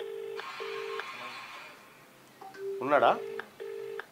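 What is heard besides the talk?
telephone dialing tones for a phone call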